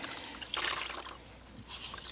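Hot water trickles and splashes over a dog's coat during a grooming session, a soft, close running flow that swells and eases in uneven surges, quiet and without talk.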